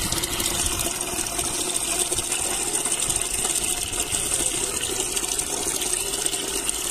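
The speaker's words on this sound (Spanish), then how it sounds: "Bueno, pues le vamos metiendo agua a esto." Clean water gushes steadily onto fermented tomato seeds in a container, a continuous close splashing rush with no pauses.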